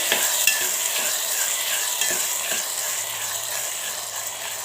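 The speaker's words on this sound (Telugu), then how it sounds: "ఇప్పుడు టమాటా ముక్కలు కూడా వేసేసుకోవాలి ఇప్పుడు ఒకసారి కలిపేసుకొని టమాటా ముక్కల్ని మగ్గించుకోవాలి" Tomato pieces frying in a pan for a curry, heard up close as a steady, loud sizzle with rhythmic scraping strokes of a stirring spoon, no voices.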